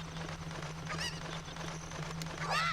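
Cuccos, the chickens of Ocarina of Time, let out short squawking clucks, a couple of brief cries over a steady low game hum, the last one louder.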